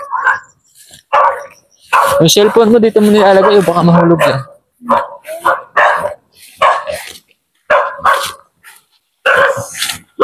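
Dogs bark and growl outdoors on a hillside near a landslide, a loud sustained stretch of barking in the middle with people talking closely around it.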